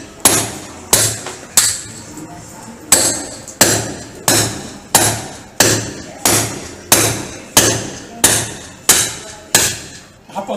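A hammer strikes hard material during home renovation work, about fourteen loud, close blows at an even pace, each a sharp crack with a short ringing decay.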